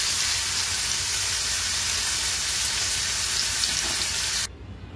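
Garlic frying and being stirred in a hot pan, a loud continuous sizzle that runs steadily before cutting off abruptly.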